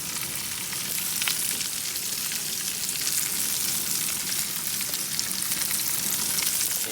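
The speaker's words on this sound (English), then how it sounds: "Nice little sizzle." Maple bacon sizzles on a grill with a continuous, dense crackle and hiss, steady and close with scattered sharp pops, without any talking.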